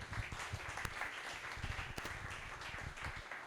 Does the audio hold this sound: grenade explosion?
no